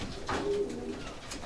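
Pigeons cooing in a loft, a single soft, low, rolling coo up close over faint background noise.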